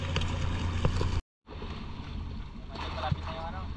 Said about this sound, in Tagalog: Lalaki pa ng alon.